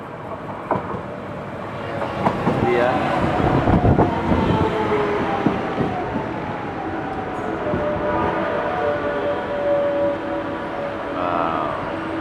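KLIA Transit train arriving at a station in Malaysia, rumbling and clattering loudly as it pulls in, then braking with a rising whine and squeal, a brief voice heard early on.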